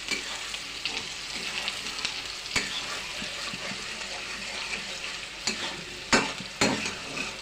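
Bhoot jolokia chillies frying in a pan with salt and turmeric, a busy close crackle and sizzle with scraping stirs and a few sharp clatters of the spoon, no voices.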